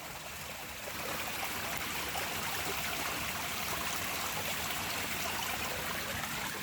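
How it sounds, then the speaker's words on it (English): Creek water from a castle moat streams steadily down past old stone walls at an ancient hill fortress, a continuous broadband rushing and trickling close by, with no voices. "That water running through there is from our castle. That's the moat, our fortified creek, flowing all the way down here."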